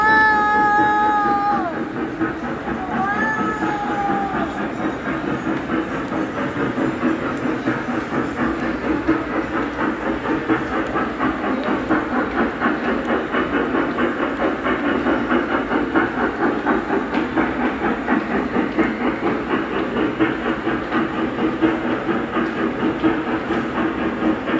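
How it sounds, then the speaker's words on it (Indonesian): A train rumbling along steadily with rhythmic clatter, loud and continuous, with a few whistle-like tones near the start. "Mana kita mau naik kereta?"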